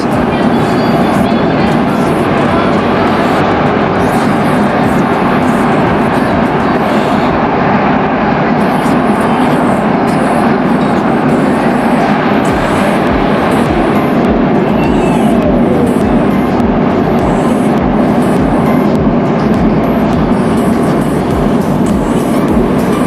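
An LRT Line 1 fourth-generation train rumbles along on a ride, with a loud continuous rolling roar and rail clatter heard from inside the car and faint voices at times.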